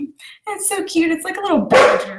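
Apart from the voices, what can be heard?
dog barking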